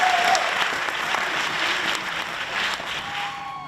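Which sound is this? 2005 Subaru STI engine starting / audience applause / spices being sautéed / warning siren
audience applause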